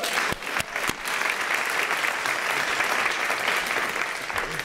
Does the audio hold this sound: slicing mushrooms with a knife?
no